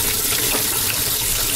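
Running water pours and splashes steadily into a container as a craft item is added, a loud continuous gush like a tap filling a sink, with no talking over it.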